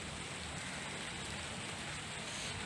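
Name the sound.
rain shower getting heavier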